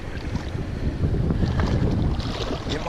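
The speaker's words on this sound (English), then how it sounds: "the wind's trying to get my kayak" Wind buffets a kayak on a mountain brook while trout fishing in Colorado, a steady broad rush with water movement underneath, continuous and fairly close with no talk.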